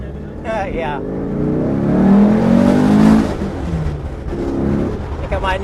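A car with a restored 2.1 liter engine revs up quickly, its engine note climbing and swelling loudly before easing back to a lower drone, with voices heard briefly inside the car.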